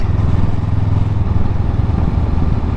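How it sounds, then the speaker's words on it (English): A Honda Rebel cruiser motorcycle is ridden with a steady, loud low engine drone and road rumble throughout. Wind adds to the noise and no one speaks. "But I'm riding a Rebel. It's a wannabe Harley."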